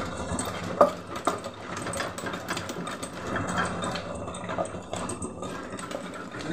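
A mixer grinder whirs steadily as it grinds a spice mix of chili powder, salt, jaggery and cumin for jujube fryums in a home kitchen, a continuous close motor drone lasting throughout with a couple of brief clunks near the start.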